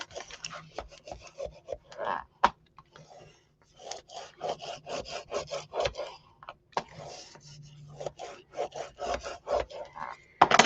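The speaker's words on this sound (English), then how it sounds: "And give it a good burnish." A paper craft accordion folio burnished by hand, a rapid rhythmic rubbing and scraping against paper in quick back-and-forth strokes, close and fairly loud, with short pauses and sharp taps between bursts.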